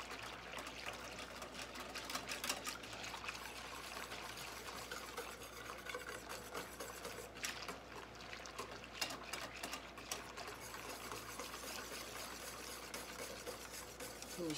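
Faint, steady scraping of a spoon stirring flour into milk, cocoa and sugar in a pot for a chocolate meringue pie filling, continuous and soft throughout with no talking.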